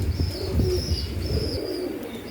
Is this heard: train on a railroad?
no